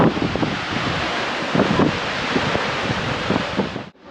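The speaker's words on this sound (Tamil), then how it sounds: "தண்ணி பாருங்க அப்படியே பால் நிறமாக ஊற்றுது சூப்பராக" Water pours down Palaruvi waterfall in a dense, constant roar, close and loud with gusty buffeting over it, cutting off abruptly near the end.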